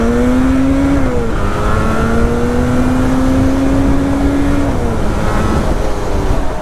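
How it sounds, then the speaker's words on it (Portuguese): A Yamaha RD two-stroke motorcycle with the YPVS power valve engaged, accelerating hard through the gears, its engine note loud and close with steady rising pitch and one brief dip at a gear change. "a moto adquire uma outra personalidade com o YPVS acionado"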